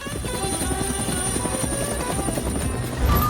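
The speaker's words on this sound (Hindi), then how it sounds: "वाह, उस हेलीकॉप्टर को देखो।" Steady, loud helicopter rotor and engine drone filling the whole stretch, continuous and close, with a faint voice briefly audible under it near the end.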